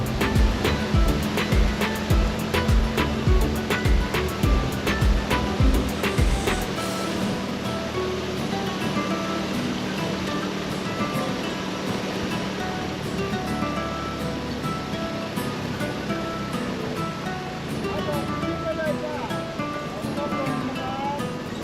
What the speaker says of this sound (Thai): ตอนนี้เรือก็ได้ชะลอความเร็วลง เข้าสู่จุดเทียบจอดตรงเขาช่องลม